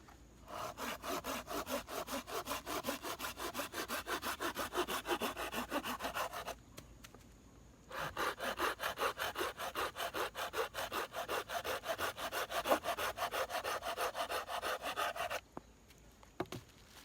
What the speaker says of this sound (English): Right through it. An inch and a half green oak.